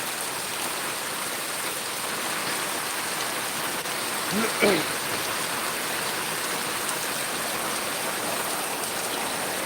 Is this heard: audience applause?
no